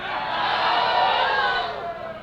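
A large crowd at an outdoor protest rally in Gig Harbor cheers and roars steadily, a loud, dense wash of voices that swells and holds without a break.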